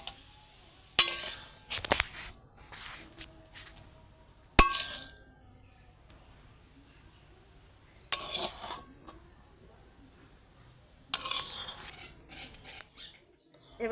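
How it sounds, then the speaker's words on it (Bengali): A cooked mixture being spread across an oiled steel plate, with a few sharp metallic clinks and scrapes in scattered bursts over a quiet background, close and fairly loud. "এবার আমি থালার মধ্যে ভালো করে চাড়িয়ে দেব।"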